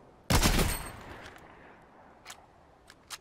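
A single loud sniper rifle shot in Fortnite Battle Royale fires close up and rings out with a decaying tail, followed by two faint mechanical clicks.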